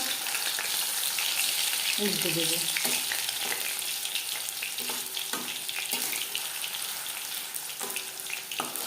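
Fish pieces fry in hot oil over a medium flame, a constant crackling sizzle with occasional scrapes and taps of a spatula; someone speaks briefly over it.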